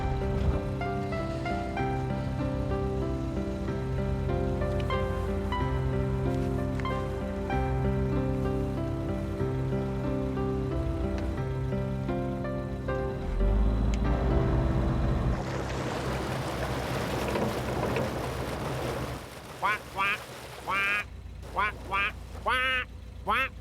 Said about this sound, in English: I'll get the engine started and cast off along the way